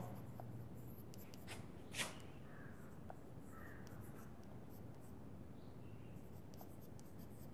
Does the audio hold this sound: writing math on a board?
yes